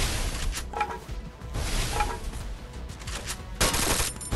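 Mac10 submachine gun firing in the Free Fire video game, repeated rapid bursts of loud gunfire filling the whole stretch.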